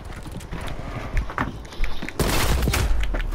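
Gunfire in Call of Duty Black Ops Cold War, heard as close bursts and shots among other game effects, getting louder and denser toward the end, with no talk.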